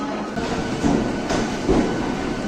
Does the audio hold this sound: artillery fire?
no